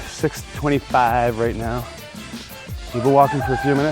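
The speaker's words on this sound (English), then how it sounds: "You can hear the roosters crowing in the background." Roosters crow in the background on an early morning walk along a rural road, their calls partly buried under a person talking nearby.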